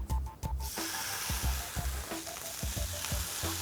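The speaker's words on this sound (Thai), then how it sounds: "แล้วเราก็ เอาหมูลงไปย่างกัน" Pork sizzles steadily in a hot grill pan, with repeated soft clunks and scrapes as it is moved around.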